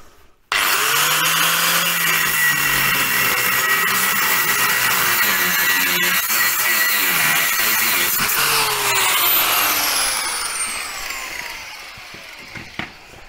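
Power-driven wire wheel scrubbing MGB front suspension parts, a loud steady whirring grind that rises and falls in pitch as pressure changes, then winds down near the end with a few sharp clicks.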